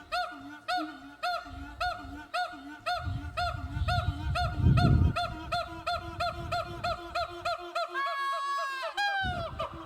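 Northern white-cheeked gibbon calling, a fast run of rhythmic hooting notes in a steady pulse that ends in a rising, sweeping whoop, loud and close.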